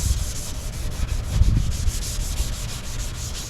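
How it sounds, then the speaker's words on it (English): Rhythmic scratchy rubbing of sandpaper worked back and forth by hand over hardened paint, close and steady, strokes repeating evenly with no talking. "I'm just sanding a bunch of different directions"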